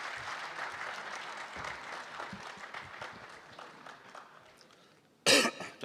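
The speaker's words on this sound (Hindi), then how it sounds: "तालियों से इस्तकबाल।" Mushaira audience applauding to welcome a poet, with steady moderate clapping from a seated crowd that gradually thins out, followed near the end by a sharp, loud cough or throat clearing close to the microphone.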